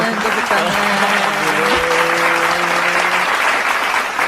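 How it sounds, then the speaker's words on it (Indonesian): Studio audience applause greets the opening of an Indonesian chat show, loud and steady for about three seconds, with a voice talking over it. "Wih, tepuk tangan dulu. Tepuk tangan."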